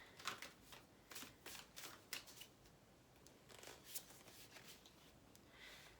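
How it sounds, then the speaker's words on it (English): An oracle card deck is shuffled and a card drawn, giving soft repeated riffling and flicking bursts at close range with no talking. "So if I just pull myself a card for today"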